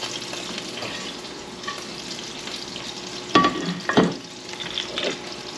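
Scallops fry in a pan with a steady close sizzle, and two sharper bursts of spatter and stirring come near the end.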